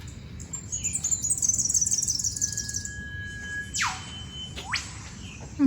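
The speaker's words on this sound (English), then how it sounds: "I could just hear the whip bird a second ago." An eastern whipbird calls outdoors with a long thin whistle ending in two sharp, sweeping whip-cracks, fairly near, over soft chirping from other birds and faint background hum.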